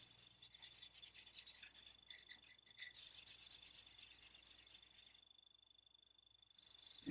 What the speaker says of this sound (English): Give it a good rub in.